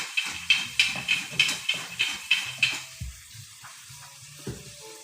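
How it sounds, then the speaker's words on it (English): Spinach hitting a hot pan over high heat, a hissing sizzle with a run of rhythmic stirring scrapes at first, then settling into a quieter steady fry with a few clanks. "So now we're gonna add our spinach, right? And we're gonna crank the fire back up"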